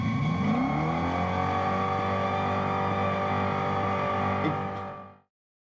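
Synthetic exterior engine sound from a Dodge Charger EV, a steady layered electronic drone imitating a big engine, loud and close, holding evenly for about five seconds before cutting off abruptly.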